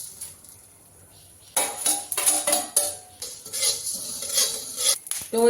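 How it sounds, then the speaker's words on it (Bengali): Ingredients being fried in a hot wok (kadai) while cooking chicken cashew gravy, with repeated metal utensil clinks and stirring scrapes over a light sizzle, close and moderately loud, no talking. "তো এগুলো আমি ভেজে নিচ্ছি।"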